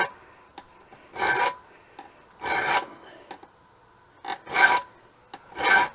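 A hand file rasps across a steel knife blade while cutting a choil, giving several strong grinding strokes in an uneven rhythm, close and clear with light taps between strokes.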